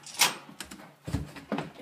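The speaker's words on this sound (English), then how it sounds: "gonna open the front door so I can go running out with it" A home's front door is opened, giving a short clunk of the latch and handle, then a couple of softer knocks and rustles close by, all at fairly low volume.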